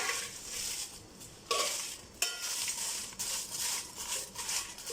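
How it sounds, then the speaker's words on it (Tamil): Whole spices being dry-roasted in a pan over a medium flame for South Indian puliogare powder, heard as a steady dry rustle and scrape of stirring with a few sharper clinks of the spoon against the pan, close by and without talk. "எல்லாமே மீடியம் ஃப்ளேமில் வச்சு நல்லா ரோஸ்ட் பண்ணிக்கோங்க"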